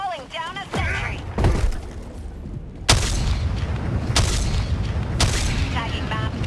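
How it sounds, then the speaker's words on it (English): A sentry being called down and dropped in Helldivers 2: several sharp, heavy booms and thuds land one after another among ongoing battle noise, with game voices and chatter in between. "Calling down a sentry."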